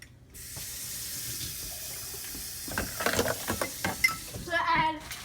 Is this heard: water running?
yes